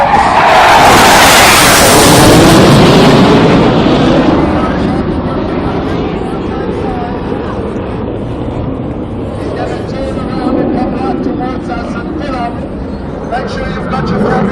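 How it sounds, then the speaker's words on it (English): Military jet at an air show pulling up while firing off flares, a loud, continuous roaring rush with crackling bursts that swells early then settles into a sustained distant rumble, with an announcer talking over it. "As the griffin pulls up, he'll be firing off flares."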